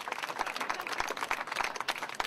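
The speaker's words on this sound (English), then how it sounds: "Any applause, anytime, please interrupt" Applause from a small outdoor crowd at a political soapbox speech, a steady patter of many hands clapping at moderate distance, fairly faint and continuous with no speech over it.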